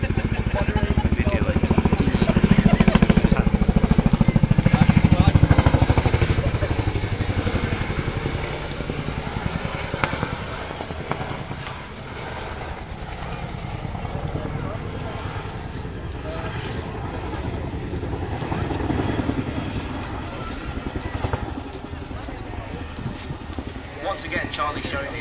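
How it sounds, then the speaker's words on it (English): An RAF Chinook helicopter performs a seesaw pivot manoeuvre at the RAF Waddington airshow, producing a loud, continuous rotor and turbine roar that swells early on, then eases and rumbles steadily with slight shifts as the aircraft turns. "Once again, Charlie showing the extreme manoeuvrability of the Chinook."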